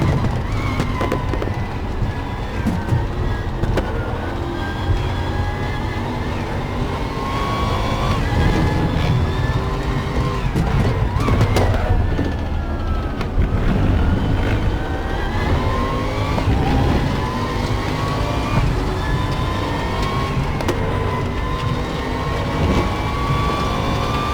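Bentley Continental GT3 race car engine in RaceRoom Racing Experience, a loud continuous roar with rising and falling revs through gear changes, sustained over the whole stretch with no talking.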